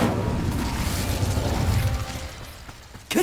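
A whooshing burst of flame from the Incendio fire spell in Hogwarts Legacy, a broad rumbling roar that swells and slowly fades, followed by a sharp new burst at the very end.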